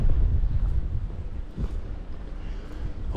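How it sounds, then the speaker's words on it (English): Strong gusts of wind rush down an old street in Tirana, buffeting the microphone with loud low rumbling that swells and dips, with a faint voice briefly underneath. "wind's picking up. And where I'm walking is like a wind tunnel."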